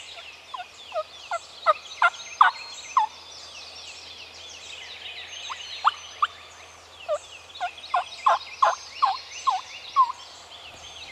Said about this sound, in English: As day breaks and the bird begins to gobble